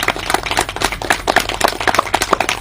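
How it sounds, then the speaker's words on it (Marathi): Audience at a poetry event applauding a team, a run of close, sharp, irregular claps from a small group, steady and lively throughout with no voices. "त्यांच्यासाठी एकदम जोरदार टाळ्या झाल्या पाहिजे"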